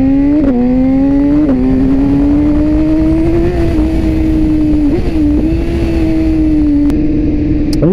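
A BMW S1000RR motorcycle engine drones loud and close while riding, holding a steady high note that dips briefly at gear changes. Someone says a few words over it.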